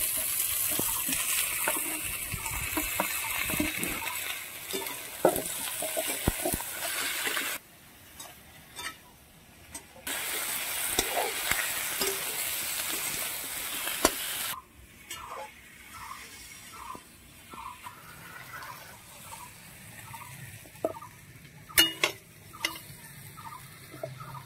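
Tomato is added to a hot pan and fries with a steady hissing sizzle, broken by stirring scrapes and short clinks, close and fairly quiet, with a burst of running water partway through.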